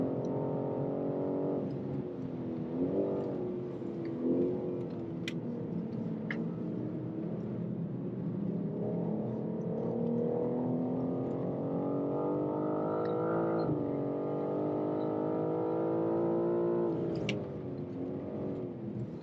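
Race car engine at the Rolex 24 at Daytona, heard from the cockpit as it pulls through the gears, the pitch climbing and dropping in repeated surges, loud and continuous with brief lifts between shifts.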